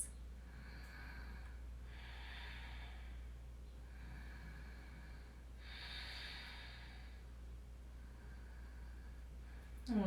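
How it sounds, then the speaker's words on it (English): A person doing yoga takes slow, deep breaths, with soft airy inhales and exhales repeating at an unhurried pace, close and quiet against a low steady hum. "3 deep breaths."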